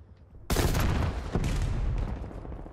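Sustained automatic gunfire in the video game Call of Duty Cold War erupts abruptly and pounds on continuously, loud and dense with a rapid stream of shots and a brief fresh burst at the end.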